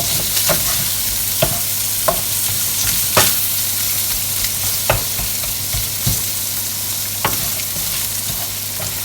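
Italian streaky bacon frying in a pan, with a steady, loud sizzle and crackle and occasional sharp pops and stirring taps throughout, no voices.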